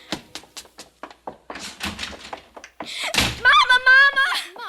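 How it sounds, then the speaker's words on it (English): A door slams shut in a 1955 radio drama: a loud, sharp bang breaks through a run of quick percussive steps and breaths, followed by a shrill, wavering high tone. "Margaret, haven't I told you not to slam the door?"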